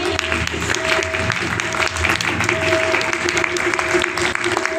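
Audience applause at an event where a speaker recites verse, steady continuous clapping from a crowd with a faint sustained tone running underneath.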